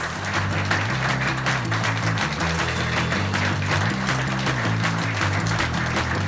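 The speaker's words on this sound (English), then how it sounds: "Come on, everybody, a big round of applause" An audience claps for a chef on stage at a cooking-club speed and plating challenge, steady crowd applause running under loud, rhythmic stage music with a prominent bass line.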